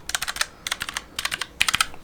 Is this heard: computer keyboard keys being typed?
yes